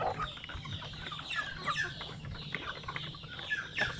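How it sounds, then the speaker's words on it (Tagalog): Chickens on a small poultry farm cluck and squawk over each other in a busy, close flock, with scattered higher calls rising above a steady low murmur. "dito sa ating mga alagang mga manok"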